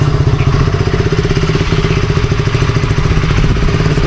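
A KTM Duke 200 BS6 motorcycle engine idles loud and near with an even, rapid pulsing thump and a slight mechanical clatter, steady throughout.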